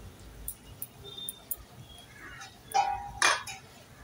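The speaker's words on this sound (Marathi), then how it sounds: "तर देऊया वरतून झाकण" Metal lid set onto a cooking pan of simmering spice paste, with a couple of sharp clinks and a scraping clatter late on, preceded by faint light taps, close and fairly quiet.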